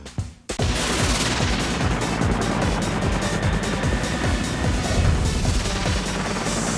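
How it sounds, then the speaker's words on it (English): Dense, continuous crackling bursts of fireworks going off, loud and sustained after a short quiet start, with rapid popping like a fusillade. "Hey kids, don't play with fireworks."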